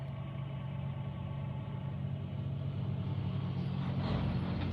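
A truck engine idles in a parking lot, a steady low rumble with a constant mid-range drone held at an even level from start to finish.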